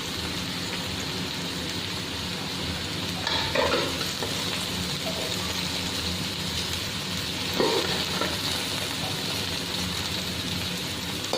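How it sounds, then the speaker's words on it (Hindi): Okra and minced meat sizzle in hot oil over medium heat, a steady close crackle and hiss with a couple of brief stirring scrapes. "इसको दरमियानी आंच पर फ्राई करेंगे, बहुत अच्छी बनती है कीमा भिंडी"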